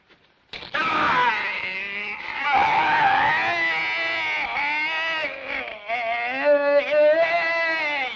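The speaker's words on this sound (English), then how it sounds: "Scream, do you understand? Scream. Scream!" A man's drawn-out anguished screams and wailing moans in a western film scene, loud and close, rising and breaking over several seconds with no other talk.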